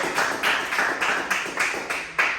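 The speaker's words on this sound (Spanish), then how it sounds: "Démosle otro fuerte aplauso a Cristo, por favor" A church congregation claps together in strong, regular beats, roughly two to three claps per second, crisp and close, with no talking over them.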